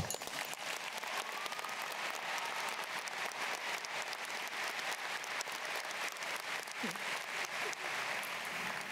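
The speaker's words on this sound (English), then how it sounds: "the least we can do now is give them a round of applause" A graduation audience at the 2019 Monacan High School ceremony applauds steadily throughout, a dense, even wash of many hands clapping that sounds somewhat distant and soft.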